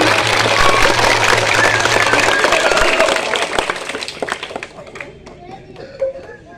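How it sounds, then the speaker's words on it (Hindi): After an outdoor street play on a children's learning mission in India, a crowd claps loudly, the applause thinning into scattered, fading claps with voices heard near the start. "जोरदार तालियां होनी चाहिए"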